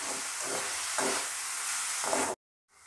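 Turmeric, coriander, cumin and chili powder cooking in a pan for a spiced broccoli sabzi, giving a loud, broad sizzle that swells with stirring strokes before cutting off abruptly into silence.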